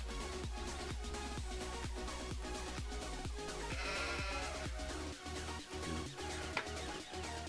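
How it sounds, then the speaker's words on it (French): Sheep bleat on a farm in Farming Simulator 2015, layered over a dense, steady rhythmic backdrop that runs without a break, with no talking. "Donc ici on a les moutons."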